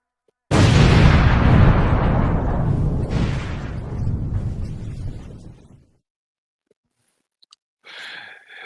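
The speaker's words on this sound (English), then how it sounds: "The explosion." A card game show plays an explosion sound effect: a sudden, loud blast that starts sharply and rumbles away over about five seconds, then a short silence before a brief sound at the very end.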